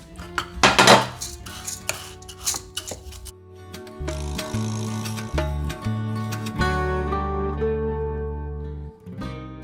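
Rice is packed down into a pot with a cup in a kitchen, giving clattering metallic scrapes and knocks of the cup against the pot, loud at first then settling into repeated tapping and scraping.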